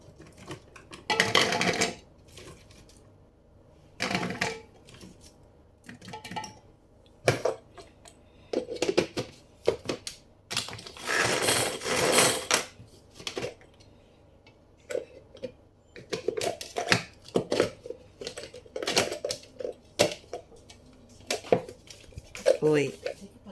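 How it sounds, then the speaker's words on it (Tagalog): Knife chopping onion and garlic on a cutting board for corned beef lumpia, heard as bursts of quick, close rhythmic taps with pauses, under intermittent talk. "magcha-chop tayo guys ng ating onion and garlic"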